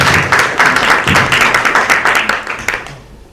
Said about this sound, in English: give another round of applause to the organisers